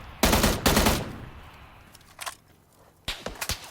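Gunfire in the video game PUBG: two sharp close bursts of automatic shots, a pause with fainter distant pops, then another rapid burst, loud and punchy.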